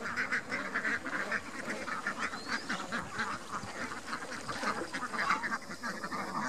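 Many ducks on an open duck farm fenced with netting quack in a continuous overlapping chorus, busy and fairly close, with no pauses.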